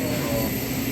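A jet aircraft engine roars steadily and close by, with a constant low hum beneath a broad hiss for the whole brief moment.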